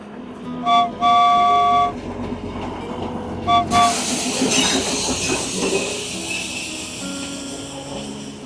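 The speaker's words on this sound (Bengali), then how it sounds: "এই যে টয় ট্রেন আসছে," Darjeeling Himalayan toy train arriving at Tindharia station, loud sustained horn blasts in short bursts followed by hissing steam and rumbling wheels with squeals, close by, with faint background voices.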